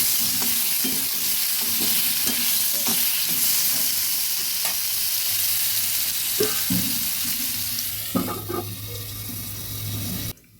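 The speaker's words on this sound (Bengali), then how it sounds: "ভালোভাবে নেড়ে একটু ঢেকে ভেজে নেব।" Potatoes with salt and turmeric fry in a partly covered pan with a steady sizzle, broken by occasional stirring scrapes and clinks of a utensil; no voices.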